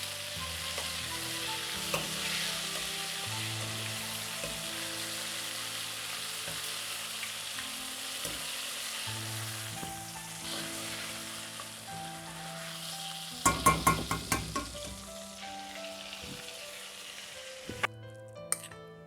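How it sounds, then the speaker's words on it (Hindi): Jumbo prawns frying in hot oil, a steady close sizzle with a few sharp metallic clinks near the end as pieces are turned. "ऐसे ही तमाम झींगे तल लें।"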